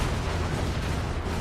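Continuous, dense explosions and booming blasts from the chaotic multiplayer action game Crackdown 2 roar without a break, loud and rumbling, with no talk over them.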